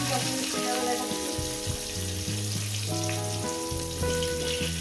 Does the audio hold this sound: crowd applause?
no